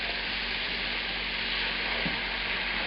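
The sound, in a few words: mushrooms frying and sizzling in a pan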